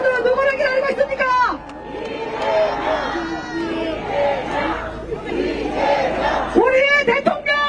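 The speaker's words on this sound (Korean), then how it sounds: "기호 1번 이재명 큰 박수 부탁드립니다" A crowd at an outdoor presidential campaign rally in Dongtan, South Korea, shouts and cheers in waves, with a host speaking loudly over the noise and chanting voices rising near the end.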